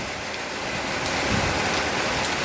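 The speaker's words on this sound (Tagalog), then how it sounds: "Ayan o, bumagsak na naman uli ang ulan" Steady rain pours down in windy weather in Bulacan, a dense, even hiss of drops on surfaces that holds at a constant level throughout, with no voices.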